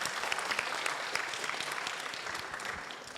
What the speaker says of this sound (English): Give a loud applause.